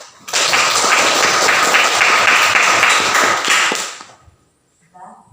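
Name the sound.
audience applause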